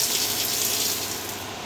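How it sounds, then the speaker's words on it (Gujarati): Coolant pouring steadily over the workpiece on a CNC turning lathe with a Siemens controller, a close, loud, even hiss and gush of liquid that runs unbroken, with no talk. "જેમાં તમે જોઈ શકો છો એમ એનું કુલન્ટ ચાલુ છે"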